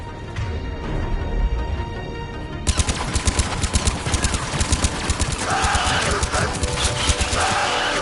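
Rapid bursts of gunfire in Mass Effect 3 break out abruptly after a calmer opening and continue as a dense, close, sharply rhythmic volley mixed with other combat noise.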